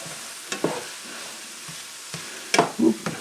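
Shrimp fried rice with egg and onion being stirred and scraped in a pan, a quiet steady sizzle broken by a few sharp utensil scrapes and clacks, loudest near the end, with no talking.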